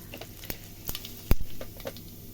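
A small pinch of cumin seeds hits hot oil in a wok, producing a brief crackling sizzle punctuated by a few sharp pops and one louder clatter.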